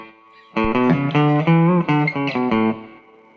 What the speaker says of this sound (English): which I have as my always on slapback delay.